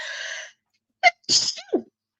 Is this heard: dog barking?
no